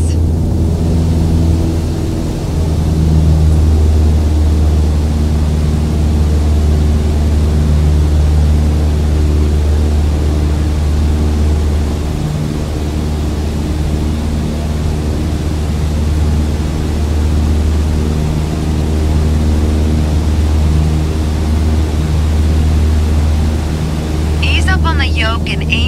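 Steady droning engine of a Cessna 152 in Microsoft Flight Simulator 2020, a constant propeller hum with a low tonal buzz and little variation, heard throughout with a voice giving instructions over it.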